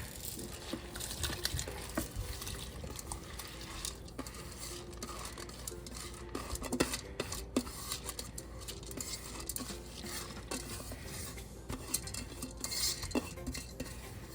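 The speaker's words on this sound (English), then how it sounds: "I'm going to add my rice in" Rice for jollof is tipped into a pot on a low-flame stove, giving a soft steady patter with scattered clinks of utensil against metal throughout.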